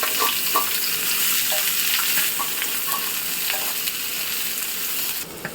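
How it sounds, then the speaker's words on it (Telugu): Onions frying in about three spoons of hot oil for a fish curry, a continuous loud sizzle broken by soft scrapes and clinks of stirring. "ఇలా బ్రౌన్ కలర్లో వచ్చేదాకా వేయించుకోవాలి"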